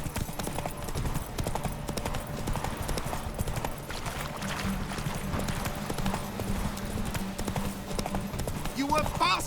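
Geralt's horse Roach gallops in The Witcher 3, hooves clip-clopping in a quick, steady rhythm with a brief whinny, while voices talk over the hoofbeats.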